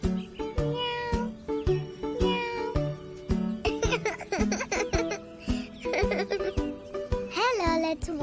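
A cartoon cat meows repeatedly over bright children's music, with a few rising, sing-song cries standing out clearly near the end; the meows could be voiced imitations rather than a real cat.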